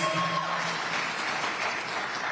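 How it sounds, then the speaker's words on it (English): An audience at a televised Washington governor's debate applauds in a steady, even wash of clapping that holds at moderate volume throughout the short stretch. "Hold your applause, please."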